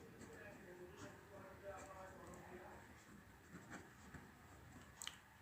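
A teacher writes a formula for the direct-method mean in a statistics lesson on a board, with light scratchy strokes and taps running steadily beneath continuous close speech.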